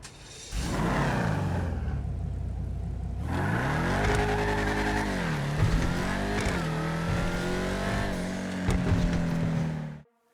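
A Chevrolet Camaro ZL1 muscle car in GTA V roars loud and close, its engine note rising and falling through repeated revs and gear changes after a brief noisy start, then cutting off abruptly.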